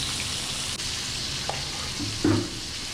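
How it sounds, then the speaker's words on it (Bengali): Pangas fish pieces fry in hot oil in a pan partly shielded by a lid, giving a steady dense crackling sizzle throughout, close and loud, with a brief clatter near the end. "মাছগুলো ভাজার সময় আমি একটা ঢাকনার সামনে দিয়ে রাখি যেন তেলটা না ছিটে"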